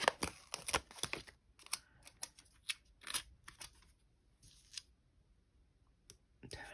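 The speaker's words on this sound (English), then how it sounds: "I'm just going to cut down the middle" Scissors cut paper for a planner dashboard layout, giving a series of sharp, close snips in quick clusters and then sparser single cuts, with no speech.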